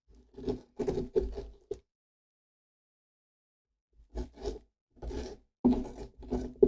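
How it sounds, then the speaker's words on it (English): A tool scrapes the inside of a pumpkin in two bursts of close, rough rasping strokes, with a silent gap between them. "I'm just gonna give it a little extra scraping to make sure I got everything"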